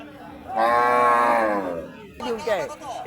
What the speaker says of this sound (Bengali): অনেক গাই গরু সেই যে দেখছেন